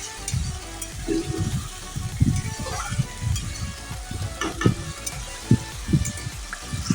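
Grated onion, garlic, ginger, green chili and tomato frying in a pan for a veg sandwich filling, a low wet sizzle broken by repeated stirring scrapes and soft thumps, close and continuous without talk.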